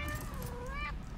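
A cat meows in the video game Satisfactory with arachnophobia mode on. One drawn-out, wavering meow lasts about a second over constant game background noise.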